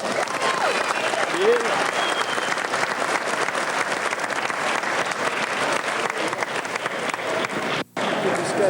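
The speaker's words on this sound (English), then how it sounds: "Let's give both fighters a round of applause." A crowd applauds steadily for two fighters at a Sambo competition, a dense wash of many hands clapping that runs nearly the whole time and breaks off briefly near the end before resuming.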